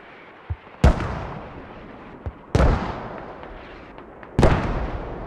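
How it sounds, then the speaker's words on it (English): Mortar fire in the tactical shooter Squad: three heavy booming blasts at spaced intervals, each with a long rumbling decay. Faint thuds sit between them. "Stop mortaring the friendlies."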